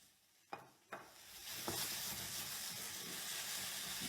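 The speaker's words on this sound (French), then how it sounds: "Je vais rajouter ensuite mes lardons quand mes oignons seront bien tombés. Voilà, je vais bien mélanger." Onions and lardons for a tartiflette sizzle in a pan, opening with two or three sharp knocks of stirring before settling into a steady, close, hissing fry with no voices.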